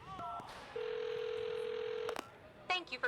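A telephone in the video game Knockout City dials out: a few quick keypad tones, then a long steady ringing tone, followed by a short burst of chirpy electronic sounds.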